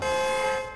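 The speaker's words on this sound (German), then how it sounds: "Auf dem Friedhof bitte nicht hupen." A car horn in the video game Watch Dogs gives one short, steady blast near a cemetery, loud and close, then fades out at the end.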